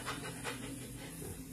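A bird pants rapidly right beside the microphone, a continuous breathy, hissing wheeze with fast rhythmic pulses and no other sounds over it.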